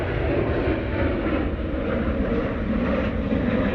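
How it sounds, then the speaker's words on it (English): Constant jet rumble from a Ryanair Boeing 737-800 passing the control tower at Manchester Airport, a loud, even engine roar with a slight swell and no talking heard. "RyanAir 737-800 crossing the tower beautifully there."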